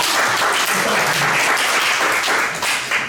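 Steady audience applause at a lecture on leadership in the AI era, a dense continuous clapping from a crowd in a hall, fairly loud and alone without talk.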